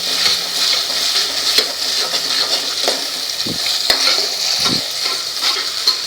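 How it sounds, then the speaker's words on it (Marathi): Stuffed eggplant masala sautés in a pan over medium heat, a continuous bright sizzle with repeated soft scrapes and a few sharp utensil knocks as it is stirred, close and steady throughout. "हे बघा हे छान परतायचं आहे।"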